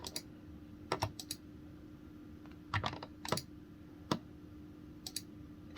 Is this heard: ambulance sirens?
no